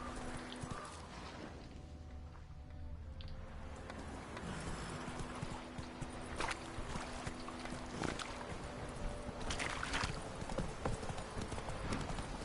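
Roach, the horse in The Witcher 3: Wild Hunt on PS5, gallops with rapid, rhythmic hoof clip-clops that grow steadier over the span, heard faintly over low ambient game sound.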